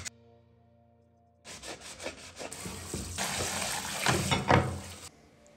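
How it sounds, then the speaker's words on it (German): A knife scrapes limescale crust off a clogged sink pipe, making a dry, grinding rasp of repeated strokes that grows louder and busier before stopping abruptly, close and with no voices. "Die Verkrustung löse ich jetzt mit dem Messer, das sind Kalkablagerungen,"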